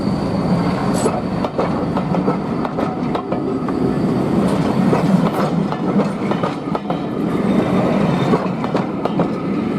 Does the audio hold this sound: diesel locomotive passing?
yes